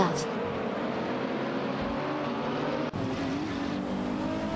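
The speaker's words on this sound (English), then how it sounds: "Deplorableeple is behind the wheel of a Lamborghini Huracan GT3, while Lacroix 1980 is commanding a Callaway Corvette C7 GT3" Lamborghini Huracan GT3 and Callaway Corvette C7 GT3 race cars in a video game give a steady, loud engine roar throughout, sustained with a brief dip midway, as a commentator talks over it.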